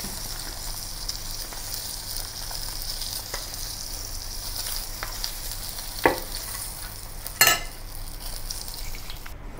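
Tofu sizzles and fries steadily in a hot pan, a continuous close crackle with a couple of sharper pops and clinks from stirring or turning the pieces.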